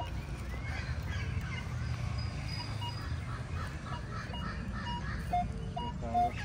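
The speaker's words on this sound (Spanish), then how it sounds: "Ay, qué bonito cantan los cotorros." Free wild parakeets chatter and squawk outdoors in the countryside, their scattered calls rising over a steady, dense background noise throughout, with no voices.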